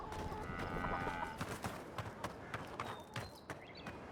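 A cow creature in the fantasy video game Avowed walks along, its hooves clip-clopping in a steady, fairly near rhythm over faint ambient game sound.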